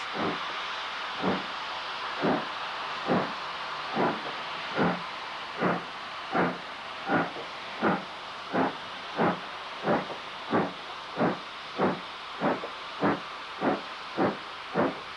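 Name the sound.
steam train passing under a bridge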